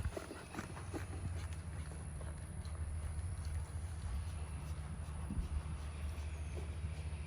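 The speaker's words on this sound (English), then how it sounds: "Good energy into the extended trot." Horse hoofbeats in an extended trot during an advanced dressage test, a steady rhythmic clip-clop over a continuous low rumble of arena or wind noise, moderately distant with no talk.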